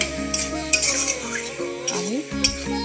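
Fish head and cabbage curry stirred in a pan with a spoon, giving scraping and clinking metal-on-pan sounds over a low constant cooking hiss, close and steady.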